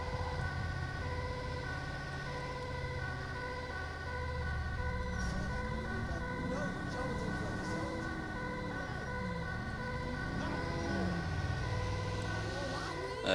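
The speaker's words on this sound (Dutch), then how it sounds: "ik geloof dat hij de Rumble Sirene heet" A Rumble siren wails from an ambulance in a video game, a low sweeping tone rising and falling over a steady electronic siren cycle and engine hum, continuous and fairly loud.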